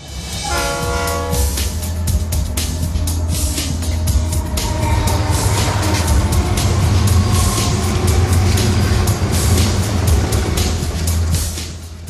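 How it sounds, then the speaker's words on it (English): A train rumbles past loudly and steadily, with a horn blaring at the start over the continuous heavy roar of the cars. "Kids, look there. It is a train."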